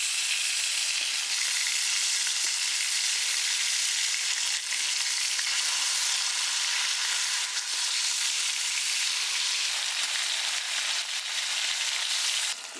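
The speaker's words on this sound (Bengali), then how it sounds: "মাছটা আমি হালকা করেই ভাজবো সর্ষে পোস্ত করার জন্য" Hilsa fish fries lightly in hot oil, giving a dense, unbroken sizzle that stays close and loud throughout, with faint pops scattered through the hiss.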